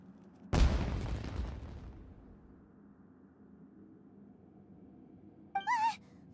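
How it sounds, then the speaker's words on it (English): A fireworks explosion in the video game Genshin Impact: a single loud boom with a rumbling tail that fades over about a second and a half, followed by quiet and a brief, high whistling sound. "Was that an explosion? It sounded like fireworks."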